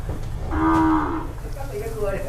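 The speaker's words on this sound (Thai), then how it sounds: "ชุดนี้เป็นวัวเข้าขุนนะครับ" Beef cattle being fattened for sale at a cattle and buffalo market in Wang Prachop, Tak, let out one long, close, loud moo, followed by quieter low calls and market background.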